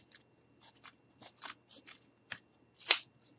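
Scissors snipping through craft material for a gnome bed, a series of short crisp cuts at an uneven rhythm with one louder snip near the end, close and alone.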